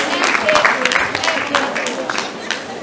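Audience applause at a young engineers program event, a broad dense wash of clapping hands that stays fairly loud and steady through the whole stretch, with a voice or two faintly mixed in.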